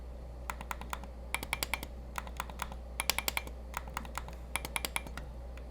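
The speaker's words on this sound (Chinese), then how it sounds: "Steam Deck 的 R1、R2 有点太软太闷了 ，OLED 版也改掉了，你们听两者的声音差异应该就很清楚" Crisp, sharp clicks from the R1 and R2 shoulder buttons of a Steam Deck OLED sound close and quick, in short irregular bursts of several presses with brief gaps, over a low steady hum.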